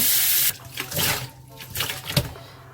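Warm water running over a human hair wig as it is rinsed, a loud splashing gush at the start that breaks into uneven, near sloshes and drips.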